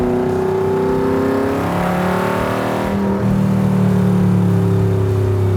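Superformance MkIII Cobra R roadster with a 5.2 Aluminator engine revs hard in second gear, a loud, close, continuous rising engine roar that swells further near the end.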